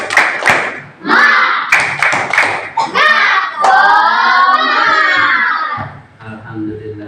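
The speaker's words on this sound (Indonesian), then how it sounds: "Untuk semangat kita, tepuk semangat." A classroom group performs a rhythmic spirit clap together, bursts of sharp unison hand claps mixed with loud chanted shouts from children and adults, close and energetic.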